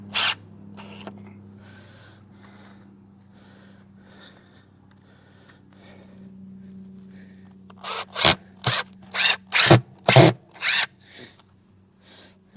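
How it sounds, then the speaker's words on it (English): A power drill drives screws into a wooden cross buck fence, starting with faint quiet handling, then a run of short, loud, close bursts of the motor in quick succession near the end. "put another screw in this one"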